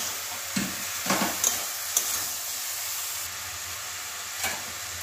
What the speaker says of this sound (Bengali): ভালো করে মিশিয়ে দিতে হবে। ভালো করে কষিয়ে নেব 2-1 মিনিট।